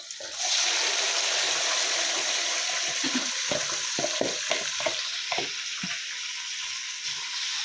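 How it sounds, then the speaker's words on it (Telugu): Marinated chicken in yogurt hits a hot pan for an Andhra-style chicken pulao, bursting into a loud, steady sizzle that holds throughout, with a series of sharp stirring scrapes and spatters in the middle. "ఇప్పుడు ఈ మ్యారినేట్ చేసిన చికెన్ని దీంట్లో వేసేస్తున్నాను"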